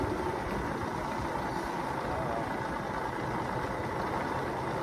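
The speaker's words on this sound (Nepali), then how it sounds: "अब हामी अहिले एकदम न्युट्रलमा ओह्रालो भएको कारणले न्युट्रलमा बाइक कुदाइराखेको छौँ" A motorbike coasts downhill in neutral on a hill road from Bhojpur bazaar to Bokhim, giving a steady low engine idle hum mixed with constant wind and road rumble and no change in pace.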